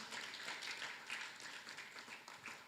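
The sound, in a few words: applause at a press conference for GPI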